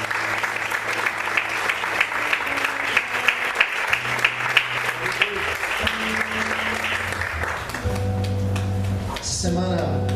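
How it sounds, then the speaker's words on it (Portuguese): A church congregation claps steadily and with enthusiasm after a call to applaud the Lord. The applause is dense and sustained throughout, and a sustained musical tone plays softly beneath it. "Você pode aplaudir o Senhor com alegria?"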